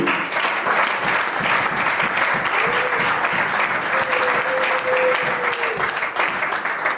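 A church congregation claps in sustained, dense applause that stays loud and steady throughout, with a faint held tone of music or voice rising briefly in the middle.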